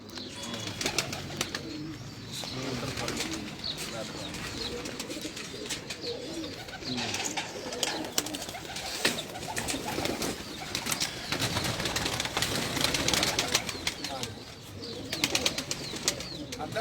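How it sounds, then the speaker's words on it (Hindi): Pigeons on a rooftop coo steadily throughout, with soft, overlapping calls from several birds. Faint chirps and light rustling sit underneath, and no one speaks. "उनके कबूतर भी मैं आपको दिखाना चलता हूँ, साथ साथ कबूतर भी देखते हैं"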